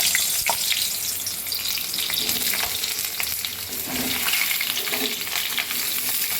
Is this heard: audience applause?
no